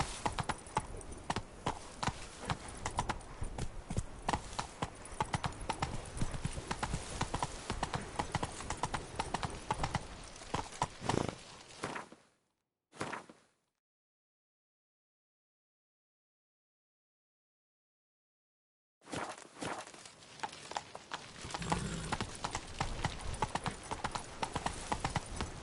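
Geralt's horse Roach clip-clopping steadily in The Witcher, a dense run of hoofbeats that cuts out briefly to silence midway and then resumes.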